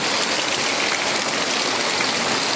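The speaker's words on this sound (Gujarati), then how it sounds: "વરસાદ બહુ જબરજસ્ત વરસાદ" Heavy rain pours down in a loud, steady, unbroken roar.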